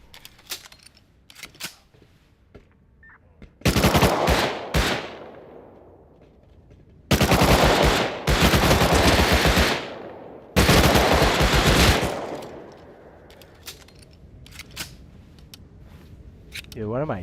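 Automatic gunfire in the survival game Rust comes in three long, loud bursts of rapid shots, with quieter clicks and reload handling between them.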